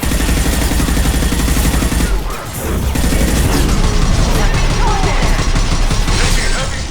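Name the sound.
heavy gunfire in the video game Mass Effect 2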